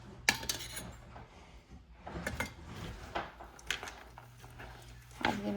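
A metal spoon clinks and scrapes against a pot while turmeric, coriander-cumin powder and other spices are stirred into food, scattered sharp knocks and scraping strokes, close and fairly quiet.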